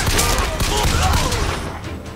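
A loud, dense gunfire barrage in Bioshock Infinite, with rapid overlapping shots and rattling impacts close by, easing slightly at the end.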